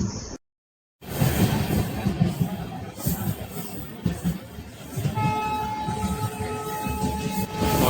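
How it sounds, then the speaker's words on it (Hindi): A DMU train passes on a single-track Indian rail line, a loud rumbling roll with rhythmic wheel clatter, after a brief cut to silence, and a sustained horn tone joins in the last few seconds. "और ये कोई DMU ट्रेन है।"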